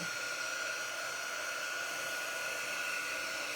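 Dryer blowing to dry wet transfer paste, a steady close whooshing roar with a faint whine, unbroken and alone with no voices.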